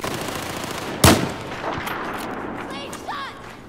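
A single loud, sharp gunshot rings out in the Battlefield 4 campaign, followed by a fading tail and quieter ambient combat noise, with faint background voice sounds.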